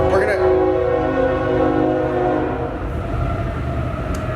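A train rumbles loudly past close by with a blaring horn at the start, the heavy rolling noise continuing steadily.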